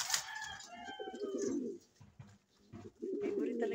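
A pair of fancy pigeons coo softly in their nest, giving low, throaty rolling coos in two phrases with a short pause between, close and fairly quiet, with a brief higher call at the start.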